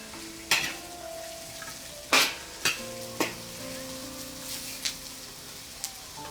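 Green chilies and capsicum fry in oil spiced with cinnamon stick, pandan leaf and curry leaves, a soft sizzle broken by a few sharp clacks of stirring against the pan.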